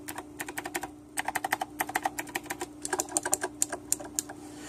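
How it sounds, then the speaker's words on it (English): Crisp clicks from an Azio MK Retro typewriter-style mechanical keyboard in quick irregular bursts, close and fairly soft, with a short pause between flurries of typing. "it is a typewriter style mechanical keyboard"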